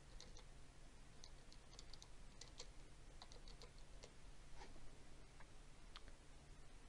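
Quiet keyboard typing in an office setting, with irregular soft clicks scattered over a steady low hum, no talking.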